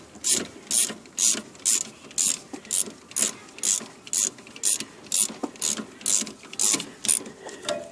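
A ratchet tightens a bolt on the rear brake of a 2009 Mazda 6, sounding as a quick series of sharp, evenly spaced clicking bursts, loud and close, repeating steadily with no talk.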